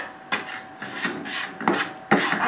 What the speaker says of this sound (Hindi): ये भुन रहा है मसाला